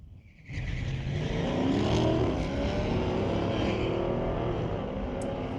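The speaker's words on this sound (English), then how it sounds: "Corvette takes off first, stays up front the entire length of the track" Corvette and Dodge grudge-match drag race at Mission Raceway Park's street-legal night, with a sudden loud burst of engines launching after a quiet start and a sustained roaring run down the strip.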